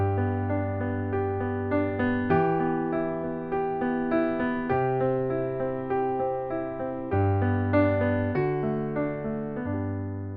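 A solo piano plays a repeating arpeggio pattern, each note ringing clearly and sustaining into the next, with chord changes every couple of seconds in a steady, flowing rhythm and no talking.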